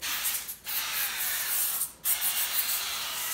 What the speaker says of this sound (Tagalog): sprayan lang natin ng ating oil